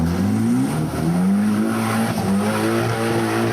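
A 4x4 trials vehicle with a 2-litre four-cylinder Celica engine revs hard on a course at Napier, a loud sustained engine howl with rising pitch and tyre scrabble throughout.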